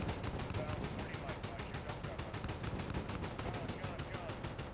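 Rapid automatic gunfire in Call of Duty: Modern Warfare, a steady fast burst of evenly spaced shots running unbroken throughout at moderate loudness.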